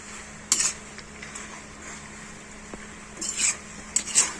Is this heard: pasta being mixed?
yes